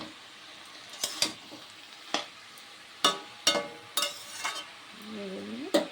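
Spatula stirring potatoes and rohu fish with salt and turmeric in a pan, giving a series of sharp, irregular scrapes and clinks over a low sizzle, close up and with no talking.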